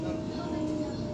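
A T3 Bankstown Line passenger train in Sydney runs with a steady low rumble and hum, heard from inside, with a voice over it.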